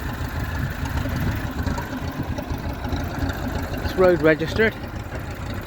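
A restored 1958 Massey Ferguson 35 tractor idles on TVO with a steady low rumble that carries on throughout, while someone talks briefly over it near the end.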